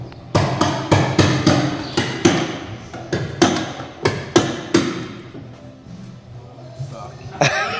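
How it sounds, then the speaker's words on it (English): A rapid run of sharp hammer blows, about a dozen strong impacts in quick succession, then a few softer, more scattered knocks. "You went to strike me with a hammer there."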